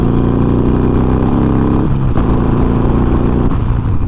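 A Harley-Davidson Sportster with a Vance and Hines fuel pack and Arlen Ness high-flow air cleaner revs loudly up close, a steady deep throb swelling and dipping twice with no voices.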